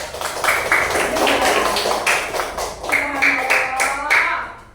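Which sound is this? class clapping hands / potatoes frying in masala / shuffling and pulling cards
class clapping hands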